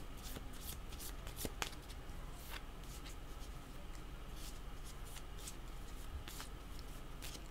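Tarot cards shuffled by hand in a quiet room, a steady papery riffling with repeated sharp flicks and snaps throughout, close and fairly soft, no voices.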